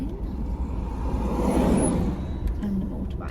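A car passes by on a road near a rural spot, a steady rumbling rush that swells in the middle and fades, heard close with no talk.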